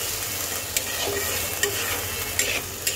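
Malabar spinach leaves frying in a pan, an even close sizzle with occasional short clicks and scrapes from stirring, steady throughout without talk.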